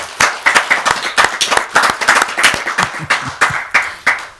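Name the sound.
applause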